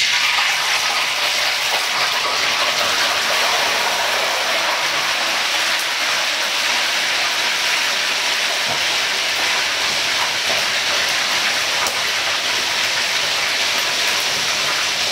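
A whole tilapia of about one kilogram sizzles steadily in hot oil as it fries, a dense, continuous hiss that stays loud and even throughout with no talking.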